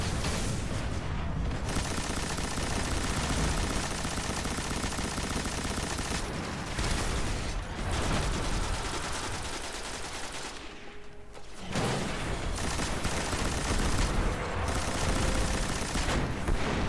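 Sustained gunfire from Destiny fills the scene: dense, continuous bursts of shooting with brief dips and pauses, loud and close, with no talk over it.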